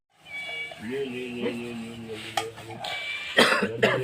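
A cat meows in a long drawn-out cry near the microphone on a Narmada parikrama route in Mandla forest, followed by a couple of short coughs or throat sounds.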